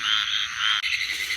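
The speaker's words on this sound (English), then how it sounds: "we can see this frog calling here. This is another Pine Woods tree frog." A Pine Woods tree frog calls in a wet breeding area in South Carolina, giving a loud, continuous rasping trill close by. The call breaks off briefly once and then carries straight on, with no voices over it.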